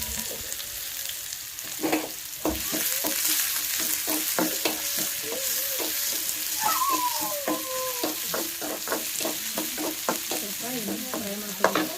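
Chopped onions and garlic greens sizzling and frying in a pan for a village-style home dish, with a steady crackle and repeated scraping and stirring knocks, close and fairly loud, no talking.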